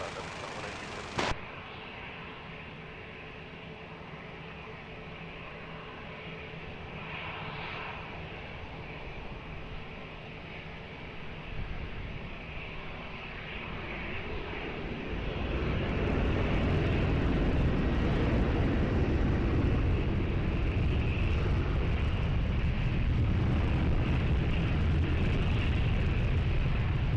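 An airliner takes off from runway 20 at Lisbon Airport, a distant engine hum that swells into a loud, steady roar as it powers down the runway, with faint radio chatter early on.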